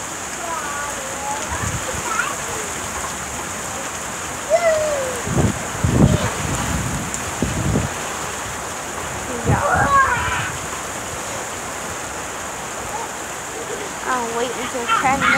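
Rain falls steadily outdoors with a constant hiss, and heavier splashes and splatters come through now and then over the wash of the downpour.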